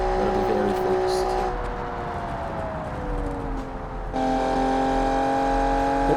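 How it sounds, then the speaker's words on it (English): Rally Group B car inspired by the Porsche 911, built in Automation and driven in BeamNG, its engine droning loudly with shifting revs and gear changes; a voice talks over it intermittently. "the engine is a lot louder now"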